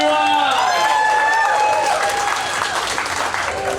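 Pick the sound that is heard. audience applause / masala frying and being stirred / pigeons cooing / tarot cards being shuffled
audience applause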